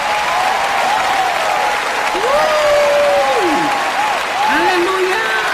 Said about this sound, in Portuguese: vamos dar às mães aqui um grande aplauso